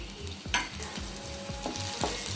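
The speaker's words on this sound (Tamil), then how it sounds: "இப்போது நறுக்கி வச்சுருக்க கார்லிக்கை போட்டுடலாம்." Garlic sizzling steadily in hot oil as it fries, with a utensil scraping and tapping against the pan in a regular stirring rhythm.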